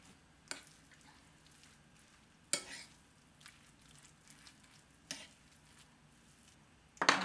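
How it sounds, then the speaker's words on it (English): Bare hands mix cauliflower rice with goat cheese, egg, salt and dried oregano, like a dough, making quiet, sparse squishes and soft wet pats spaced a couple of seconds apart in a hushed kitchen. "Just mix everything together."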